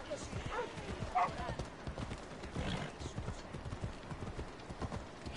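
Horse hooves clip-clop at a gallop and a whinny rings out in the ancient Greek world of Assassin's Creed Odyssey, with a voice talking over the hoofbeats throughout.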